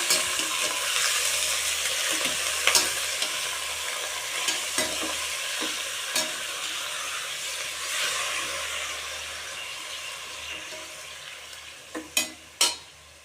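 Chicken gravy ingredients sautéing in oil in a pan, a steady close sizzle running throughout with occasional scrapes and knocks of a stirring utensil, a few sharper clacks near the end.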